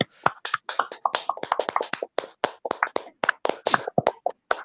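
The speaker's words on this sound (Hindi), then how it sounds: "तो मैं चाहूंगा कि एक बार आप सबके लिए एक जबरदस्त तालियां होनी चाहिए।" A small audience at a Hindi talk session claps for the attendees, giving separate sharp hand claps close by in a loose, uneven rhythm that rises and falls over a few seconds.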